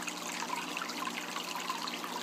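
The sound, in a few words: aquarium canister filter water flow in 90 gallon cichlid tank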